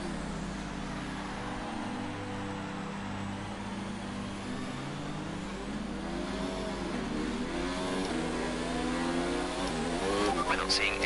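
An F1 2019 race car engine in a video game at Austin idles and revs through a practice start, a steady loud drone with rising pitch sweeps toward the end, under a talking voice.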